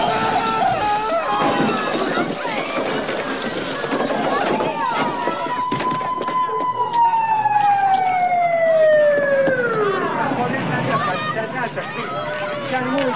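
A police siren wails with a long descending tone over busy street crowd noise and overlapping voices, loud and close.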